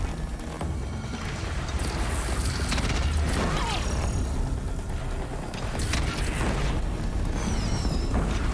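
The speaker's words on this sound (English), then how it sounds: "I like these cannons." Cannons fire in the Horizon Zero Dawn video game amid a dense, loud wash of booms, mechanical clanks and crashing battle noise that runs continuously throughout.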